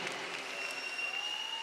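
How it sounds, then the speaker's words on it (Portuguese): Concert audience applauds the conductor and the Orquestra das Beiras at a live show, a steady, dense patter of many hands clapping, fairly distant and even throughout. "uma grande salva de palmas para o maestro Martim Sousa Tavares e a Orquestra das Beiras"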